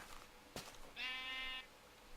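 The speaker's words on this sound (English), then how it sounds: "I need 3 sheep real quick" A single sheep bleat from Minecraft, the video game, a clear harmonic wavering call of about half a second following a short click, heard alone over quiet game ambience.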